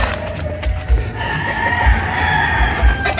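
Several young roosters (stags) crow one after another in a yard where many fowl are kept tied, their calls rising over a lower backdrop of clucking and low thumps.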